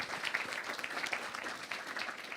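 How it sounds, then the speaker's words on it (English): An audience at a tech conference applauds, a fairly faint but continuous spread of many claps heard from a distance, holding steady throughout. "let's give another round of applause for Paula"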